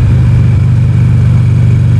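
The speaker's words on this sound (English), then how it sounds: "bike I'm riding is a Ulysses 1200cc V-twin," A Buell Ulysses 1200cc V-twin motorcycle engine runs with a loud, steady low throb, its pulses even and close throughout the whole stretch.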